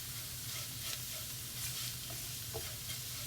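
Spices for a minced beef puff filling, among them pepper, chili powder, garam masala and fennel seed powder, sizzle steadily in a pan, with soft scrapes and stirs from a utensil throughout.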